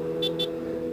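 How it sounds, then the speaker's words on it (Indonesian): A 2019 Kawasaki ZX-636R horn gives two quick, thin, weak honks in succession over the steady low hum of the motorcycle's idling engine. "klaksonnya harus diganti nih mas"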